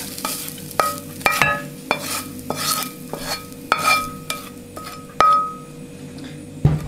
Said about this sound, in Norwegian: vi slenger kjøttdeigen og løken opp i forma våres